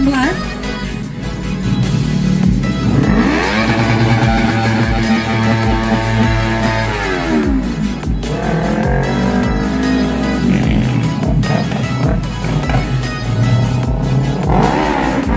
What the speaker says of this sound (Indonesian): Kendaraan Honda Jazz dengan driver Andi Noval Safwan dengan prestasi meraih juara pertama nasional slalom di Jakarta pada tahun 2019.